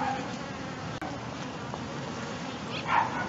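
Insects buzz steadily close by in a quiet outdoor setting, a low continuous hum with a brief louder swell near the end.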